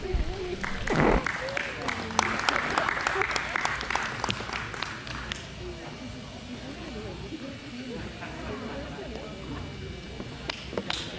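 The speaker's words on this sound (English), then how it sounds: "Please give them a nice round of applause." Spectators at a Jersey cattle show parade applaud, with sharp claps that are strongest early and then settle into lighter, scattered clapping over a hum of crowd voices and background noise.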